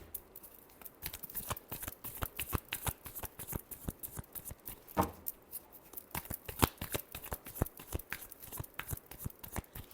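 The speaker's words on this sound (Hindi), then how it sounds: "Last shuffle." Tarot cards being shuffled by hand: a quiet, continuous run of rapid papery riffles and soft slaps, heard alone for about ten seconds.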